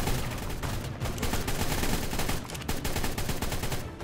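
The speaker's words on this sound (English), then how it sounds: "It's a 150 clip assault rifle, yeah, like that." Sustained automatic fire from a 150-round assault rifle in the video game ARK Genesis, a dense continuous burst of rapid shots at steady loud level with no pauses.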